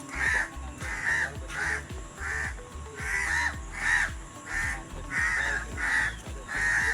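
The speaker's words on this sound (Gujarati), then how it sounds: "કાગડા બોલી રહ્યા કાગડા" Crows caw over and over in steady bursts at an outdoor spot, loud and fairly close, with several birds calling in a loose repeating rhythm against a light background hum.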